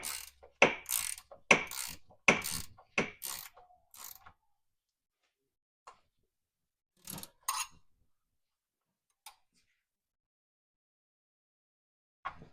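A jam nut on a homemade inner tie rod sleeve of a 1999-2006 Chevy/GMC truck being tightened with a ratchet: bursts of quick clicking close up, then a few isolated clicks and taps with silence between.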